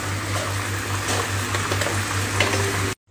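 Crab stir-fried with chili in a pan gives a continuous close sizzle over a steady low hum, then cuts off abruptly near the end.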